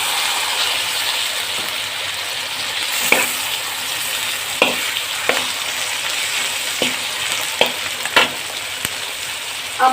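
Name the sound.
frying ginger garlic paste while stirring with a spoon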